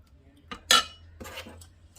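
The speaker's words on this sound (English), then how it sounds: "We're just going to scoop some of this yummy goodness into here." Shredded crockpot chicken being scooped into a dish with a utensil: a few close clinks and scrapes of metal against the dish, spaced irregularly over a quiet background.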